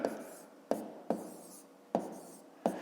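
Pen strokes on paper, writing out numbers for a long division, come as five short, close scratchy bursts with quiet pauses between them and no talking.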